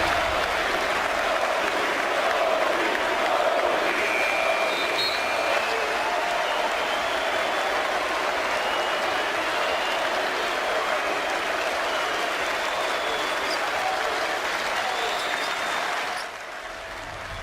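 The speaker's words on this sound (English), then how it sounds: "more cheering in New Orleans" Sustained arena crowd cheering and applause at an NBA basketball game in New Orleans, a dense, steady roar holding loud for most of the stretch before easing slightly near the end.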